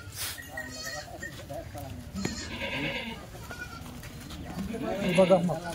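Goats on a Maharashtra farm bleat repeatedly, several calls overlapping nearby while people talk over them throughout.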